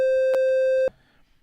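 A triangle waveform from the NLog PRO synth on an iPad sounds as a single steady, bright sustained tone for under a second, then cuts off abruptly, leaving only faint low rumbles behind.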